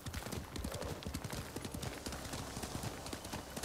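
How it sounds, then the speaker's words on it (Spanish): A horse gallops in the video game Ghost of Tsushima, rapid rhythmic hoofbeats running steadily throughout, fairly close and moderately loud, with a faint whinny-like tone mixed in and no talk. "¡Corre, caballito!"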